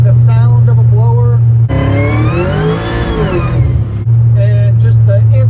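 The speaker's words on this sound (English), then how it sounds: "it's just something about the sound of a blower" A supercharged LT4 V8 with its blower revs loudly and close, a rising and falling pitch sweep of about two seconds set between steady idle, with a high blower whine on top and talk over the idle.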